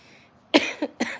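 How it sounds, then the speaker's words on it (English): Two or three sharp coughs close to the microphone, a strong burst followed by a couple of quicker ones, after a moment of quiet. "Sorry for the coughing."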